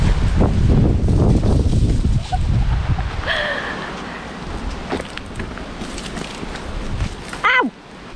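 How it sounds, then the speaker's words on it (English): Outdoors at the Culloden battlefield, heavy wind buffets the microphone with loud low rumbling that eases after a few seconds. A short tonal call cuts in near the end. "It's a little bit windy today."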